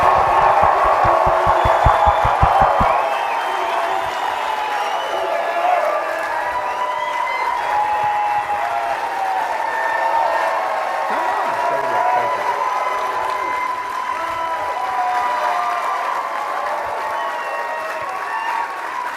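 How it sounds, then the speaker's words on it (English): A large conference audience applauds and cheers for a man at a BUILD22 event, steady dense clapping and crowd noise sustained throughout, with a loud burst at the start. "give this man an insane round of applause for the effort he's put in"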